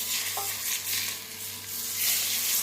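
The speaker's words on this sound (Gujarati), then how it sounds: "તેલ હંમેશા ગરમ કરીને જ આવી રીતે નાખવું આની ઉપર." Hot oil poured over gunda pickle gives a loud, close, steady sizzle and crackle that swells and eases over a couple of seconds. No voices are heard.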